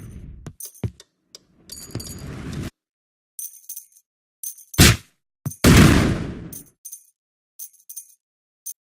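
Detonators set off explosive barrels in a video game, a series of sharp bangs and crackling bursts with one larger blast, separated by silent gaps, with metallic clinks in between.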